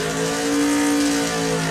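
A drag racing car at full throttle during a pass at the FIA Main Event, a loud sustained engine roar with a steady high pitch and no break.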